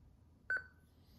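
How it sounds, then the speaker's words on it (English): A short electronic beep from a smart bike helmet, doubled into two quick pulses, clear and close against a quiet low hum. "Now it's beeping."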